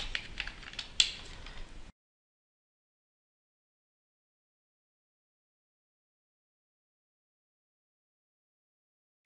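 Someone types briefly on a computer keyboard at a command line, giving a short, soft patter of key clicks that lasts about two seconds before everything goes silent.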